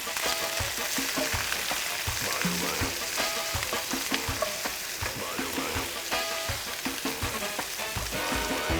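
Meatballs, onions and garlic sizzle and fry in olive oil in a pan, a steady dense crackle with occasional stirring scrapes, close and continuous throughout.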